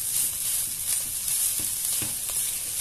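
Chicken filling seasoned with black pepper sizzles steadily in a hot pan, with soft, faint ticks from stirring under the constant frying hiss.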